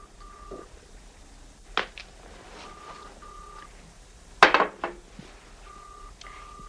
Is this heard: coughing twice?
no